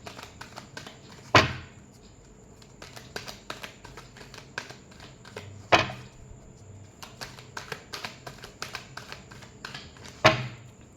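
Tarot cards shuffled close by in a quiet room: a steady patter of soft papery clicks and flutters, broken by three sharper slaps as the deck is squared.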